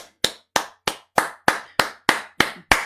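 A church congregation claps in unison during a worship service: nine loud, evenly spaced claps at a steady beat, each sharp and close, with short silences between them.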